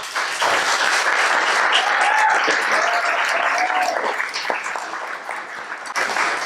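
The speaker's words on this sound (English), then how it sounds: "hold the applause" Audience applause at a commissioners forum: dense, steady clapping from a room full of people that carries on for several seconds and eases slightly toward the end.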